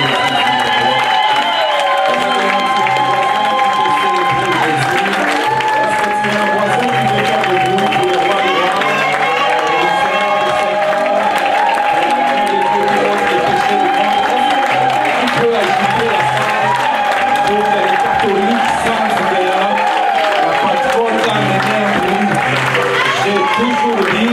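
A church congregation applauds and cheers in praise, a dense continuous roar of clapping and voices filling the room throughout, with music and a voice carrying over the crowd.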